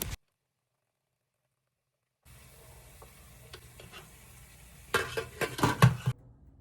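Blended plantain porridge is stirred in a pot, starting after a silent stretch with soft scraping that builds into a burst of clattering spoon-against-pot knocks, close and fairly quiet, no voices.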